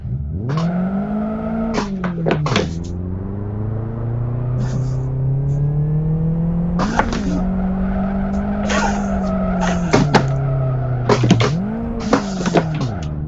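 Race car in the Live For Speed racing game, engine droning and bogging after an upshift, its pitch sagging and recovering with repeated tire squeal bursts, loud and continuous.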